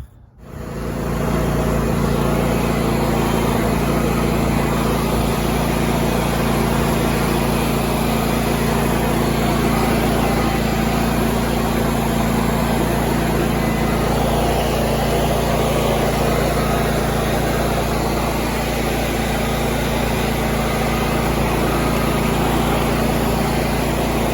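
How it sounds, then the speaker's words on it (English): A stump grinder machine runs steadily over raked ground to compact it, its engine starting up and then holding a loud, even drone close by for the whole stretch, with no talking. "I'll use the machine to compact it a bit"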